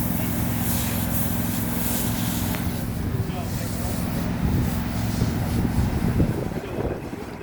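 Steady hissing spray of a pressure washer on pavers, continuous and fairly loud, with a low engine hum and wind noise throughout.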